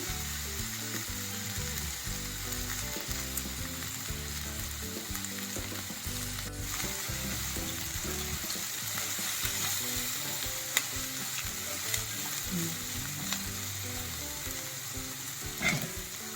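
Curry leaves crackle and sizzle in hot oil during the tempering for a Telugu bottle gourd tamarind stew (sorakaya pulusu). A steady, loud frying hiss runs throughout with occasional sharp pops and clicks.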